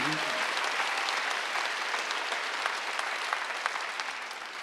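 A church congregation breaks into sustained applause during a Sunday service, dense clapping filling the room and slowly fading toward the end, with a brief voice at the start.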